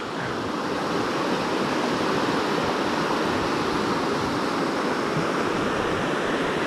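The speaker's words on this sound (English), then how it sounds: "There's a view of the upper rapids at Symonds Yat." Upper river rapids at Symonds Yat in the Wye Valley roar as a dense, steady rush of white water, loud and unbroken throughout, with no voices.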